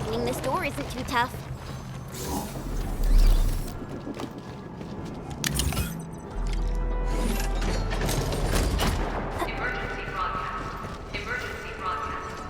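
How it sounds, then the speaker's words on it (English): A heavy door mechanism in the Arknights: Endfield video game grinds and creaks open with ratcheting, clanking mechanical sounds that swell and continue steadily over a loud, dense game soundscape. "Opening this door isn't too tough."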